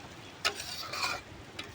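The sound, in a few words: flour being roasted and stirred in a pan for sukhdi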